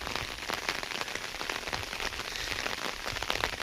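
Rain falling at Devli Ghat, a dense, steady patter of drops on surfaces, continuous and close with no voices.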